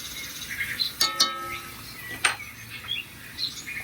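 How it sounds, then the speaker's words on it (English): Recorded bird song played from a television, with faint chirps and tweets scattered quietly over a soft room background. "They're beautiful birds."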